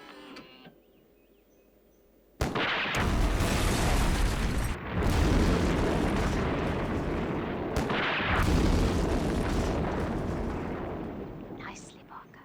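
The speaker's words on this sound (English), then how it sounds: "Nicely, Parker. Good shooting" Loud sustained gunfire and explosion roar from a Thunderbirds puppet episode, bursting in after a quiet stretch and rumbling on for about ten seconds with brief dips, close and dense.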